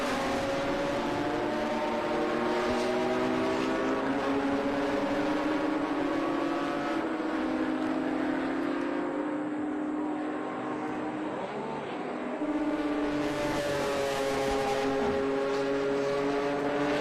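Racing cars, including BMWs and a Datsun 280Z, pass at a vintage road race. Engines drone and whine up and down through the gears, fairly distant and steady, with a brief lull midway before the engine noise swells again.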